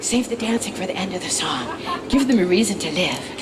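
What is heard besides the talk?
No everyday noise stands out behind the speech.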